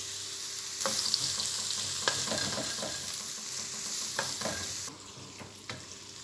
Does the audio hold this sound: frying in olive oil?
yes